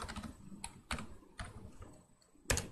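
Typing on a computer keyboard, a handful of separate key clicks and taps spaced irregularly, close and fairly soft against quiet room noise, with no one speaking.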